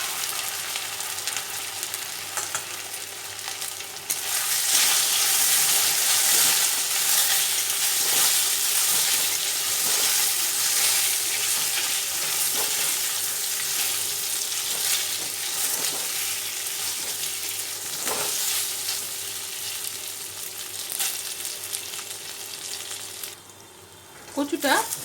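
Taro (arbi) pieces fry and get stirred through turmeric and chilli powder in a wok, a steady close sizzle with scraping stir strokes for most of the stretch, easing near the end.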